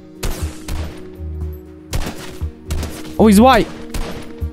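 Video game gunfire in a shooter match, sharp loud shots in separate bursts with a brief rapid volley, while a player talks over the shots.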